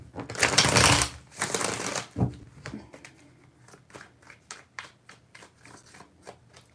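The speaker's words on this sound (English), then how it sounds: "Three shuffles." Tarot cards being shuffled, a loud close riffle and flutter of cards in the first two seconds, then lighter taps and clicks of cards being squared and handled.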